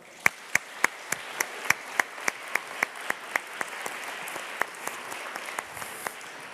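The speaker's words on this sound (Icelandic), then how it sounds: "Gefum henni gott klapp" Applause for a solo singer at a church service in Lindakirkja: a steady, evenly spaced run of about twenty sharp claps, fairly close, keeping a regular beat and easing slightly toward the end.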